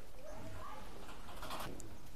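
Omani teddy pigeons coo softly in a loft with faint, low, rolling calls. A quieter chirp and light background noise sit underneath.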